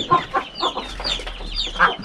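Brahma, golden Brahma and native chickens kept together as ornamental fowl cluck in a run of short, uneven bursts, fairly close and with no one speaking.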